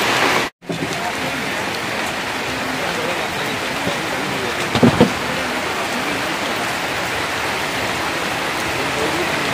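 Heavy rain pours down in Nainital, making a dense, even roar of falling water that fills the whole stretch. It breaks off only once, very briefly, near the start.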